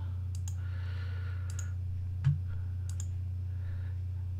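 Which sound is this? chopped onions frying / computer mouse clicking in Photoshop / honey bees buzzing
computer mouse clicking in Photoshop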